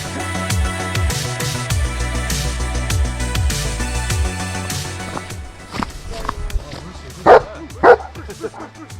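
A dog barks twice in quick succession on a hiking trail up North Kinsman, New Hampshire. The sharp barks come near the end, over steady outdoor background noise.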